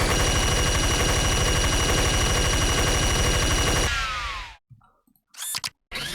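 Alternate fire of the minigun in Unreal, a sustained, even faster mechanical roar of rapid fire lasting several seconds, then a falling spin-down whine and a few sharp metallic clicks and clacks near the end.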